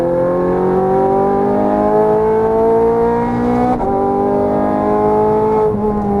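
A Ferrari 430 Scuderia engine howls loudly from inside the car during track laps at Exotics Racing in Las Vegas, its pitch climbing steadily through the gears with brief drops at upshifts, close and continuous.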